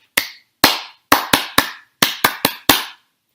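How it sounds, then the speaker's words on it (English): Classroom attention signal of hands clapping out a rhythmic beat: nine sharp, close, isolated claps in a syncopated pattern, each ringing briefly in an otherwise silent room. "Some attention getters don't require any words at all,"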